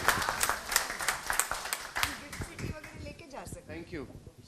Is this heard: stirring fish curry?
no